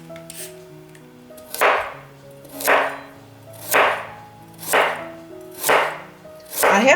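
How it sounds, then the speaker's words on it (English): Peeled carrots being sliced thinly with a knife, six evenly spaced crisp cuts landing on a board about once a second, close and fairly loud over soft background music. "Peel the carrots and slice thinly."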